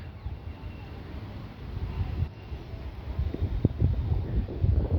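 Wind blows across a green outdoor scene of trees and buildings, a low steady rumble buffeting the microphone, with gusts that rise and fall under faint rustling.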